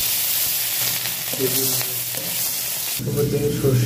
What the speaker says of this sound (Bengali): ওই তেলে দুটো কাঁচা লঙ্কা আর টমেটো কুচি একটুখানি দিয়ে দেবো।